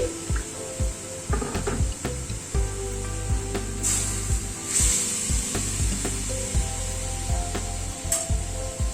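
Dal goes into a hot pan with hot water and is stirred, giving a sizzling, watery hiss broken by repeated scraping and knocking strokes of a spoon, close by, with a low steady hum underneath and no talk.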